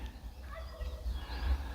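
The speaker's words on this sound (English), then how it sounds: "you can hear the turkey." A turkey gobbles faintly at a neighboring farm in the Azores countryside, with low rumbling background noise around the call.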